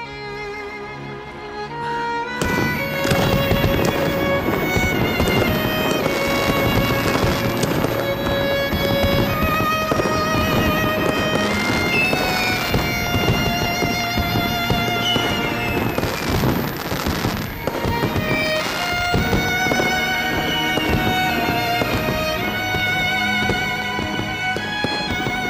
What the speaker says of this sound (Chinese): 说你很喜欢看烟火